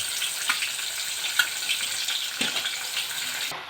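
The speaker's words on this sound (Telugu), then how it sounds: "మగ్గాక ఈ టమాటా ముక్కలు వేసుకుని మగ్గబెట్టుకోవాలి" Onion and tomato pieces for a prawn and egg curry fry in a pan with a close, bright, continuous sizzle and a few small spatters and stirring knocks.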